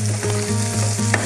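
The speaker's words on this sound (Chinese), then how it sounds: "把这个猪肉炒上颜色" Minced pork with ginger, garlic and a splash of dark soy sauce sizzles steadily in a wok, with close, continuous frying and regular stirring scrapes throughout.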